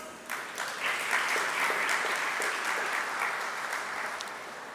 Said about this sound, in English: Good round of applause, please